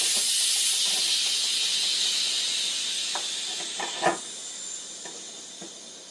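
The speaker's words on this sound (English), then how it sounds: "It's been 10 minutes, now we can release the pressure." Steady, loud hiss of steam venting from the pressure release valve of a Crock Pot Express multi-cooker after cooking rice, fading slightly over several seconds with a few faint clicks and taps.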